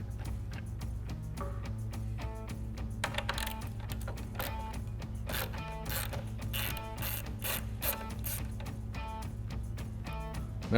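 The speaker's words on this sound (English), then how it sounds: "using our 8mm socket, we'll go ahead and remove the 2 bolts that hold in our license plate lights" An 8mm socket on a ratchet backs out the two bolts holding the license plate lights on a 2022-2024 Toyota Tundra rear bumper, a steady run of close, rapid mechanical clicks throughout.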